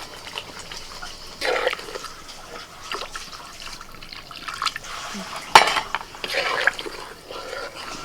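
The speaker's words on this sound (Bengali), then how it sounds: "এবার আমি এর মধ্যে একটু জল দিয়ে দিচ্ছি" Water is poured into a pan of katla fish curry masala, giving a brief splash and sizzle among clinks of cookware and utensils, near and moderately loud with no talk.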